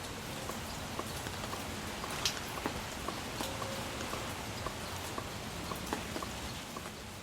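Steady rain falling in North Hollywood, a dense even hiss with scattered sharper drips and taps on nearby surfaces, continuous and moderately close, with no talk.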